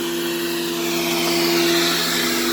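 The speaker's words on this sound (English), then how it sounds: "It should be suction right there because I'm sucking on my tank." A water-hauling truck's pump draws water by suction into a 130-barrel tank, a loud, steady mechanical roar with a constant droning hum that never lets up.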